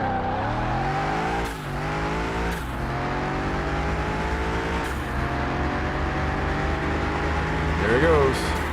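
Yamaha EV Concept electric race car in Car Mechanic Simulator 21, a steady rising electric whine with several gear-like pitch drops, continuous and fairly loud throughout.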